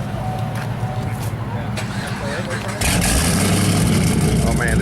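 A car's engine cranks and fires up at a cars and coffee meet, jumping from quieter background to a loud, steady running rumble partway through, with people talking over it.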